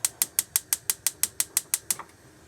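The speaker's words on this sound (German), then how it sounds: "Als erstes immer den Gaskocher in der Küche einschalten," A gas cooker igniter in a motorhome kitchen clicking rapidly about twelve times in an even rhythm, close and crisp, then stopping.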